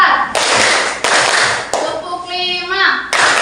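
Indonesian fourth-grade classroom where pupils clap a counted rhythm together, loud bursts of group clapping broken by brief gaps, with a singing-like voice chanting over part of it.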